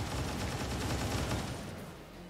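Sustained suppressive gunfire from XCOM 2, a dense, loud continuous rattle of rapid shots that holds steady and then fades slightly toward the end, with no voices over it.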